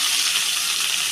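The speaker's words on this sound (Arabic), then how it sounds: "هنحمر بقى ايه المشروم والكبده والانسه هنحمرهم" Mushrooms frying in ghee with black pepper in a pan, a steady dense close-up sizzle without pause and no voice.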